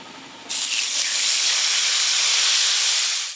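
Water is splashed into hot oil holding white sesame seeds and chili flakes, setting off a loud, steady, close sizzling hiss that starts abruptly after a brief quiet moment and runs on without any talk.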